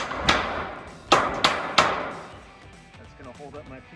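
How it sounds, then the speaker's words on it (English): A hammer drives a screw into wood while building a garden bed, giving four sharp, close knocks at an irregular pace, followed by quieter handling sounds. "I just use a hammer. Nail it right in."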